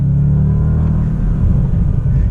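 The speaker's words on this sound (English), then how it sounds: "Much better engine sound." A deep Bentley Continental GT V8 Convertible engine rumbles and revs from inside the car, loud and steady low throb throughout.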